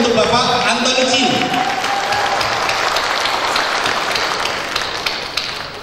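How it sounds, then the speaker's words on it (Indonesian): Enthusiastic applause from a large audience at a corporate recognition-day ceremony, a dense steady roar of many hands clapping that carries on for several seconds, with a brief announcer's voice at the start. "Berikan aplaus yang meriah untuk Bapak Anthony Chin"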